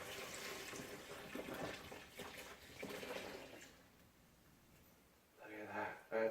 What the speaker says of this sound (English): And you pour that right there into the bucket.